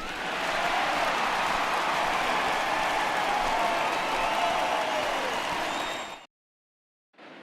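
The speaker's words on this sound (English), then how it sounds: "this home crowd likely to give him a standing O as he departs with the shutout in check" Home crowd giving a standing ovation to a departing starting pitcher with a shutout in MLB The Show 20, a dense, loud roar of applause and cheering that holds steady, then cuts out abruptly.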